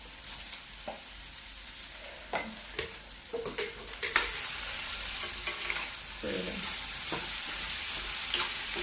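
Okra sizzles steadily in hot oil in a pan, a continuous bright frying hiss with occasional scrapes and knocks of a spatula as it is stirred, close and fairly loud, no voices.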